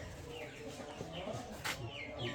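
Aseel chickens and roosters cluck and call on a farm, short scattered bird calls at moderate distance over a busy background, faint and overlapping.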